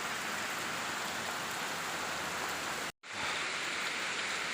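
Steady, dense rain pours down near a tea plantation in Singajaya, a loud even hiss that cuts out for a split second and then resumes.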